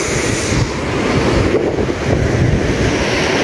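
Sea waves wash onto a sandy beach in a steady, loud broadband roar, with wind buffeting the microphone throughout and no talk.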